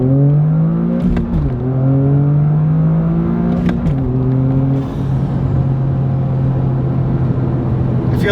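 A Toyota GR Corolla with an MBRP center exit exhaust accelerates hard and loud up close, its rising engine note climbing through gears with two clear shift drops before pulling again.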